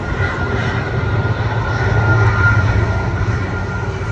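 An airliner begins its takeoff run at Guarulhos airport, a loud, steady jet engine roar building slightly and holding for several seconds with no voices.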